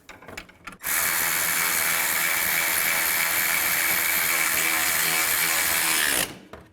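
A power ratchet or drill tightens the hood latch bolts on a 2000-06 GMC Yukon. It gives one loud, close, continuous whirring burst of about five seconds, with a few light clicks just before it.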